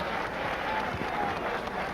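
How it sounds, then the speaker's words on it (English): A crowd at a boxing event applauds in a steady, fairly faint wash of clapping heard from a distance in a large arena. "Another nice round of applause"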